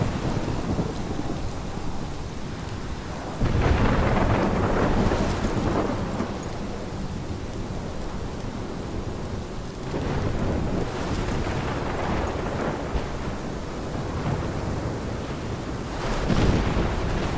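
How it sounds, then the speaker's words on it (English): A thunderstorm in the game Life is Strange, with heavy rain and wind forming a loud, continuous roar and rolling thunder swelling several times, no voices. "This is my storm."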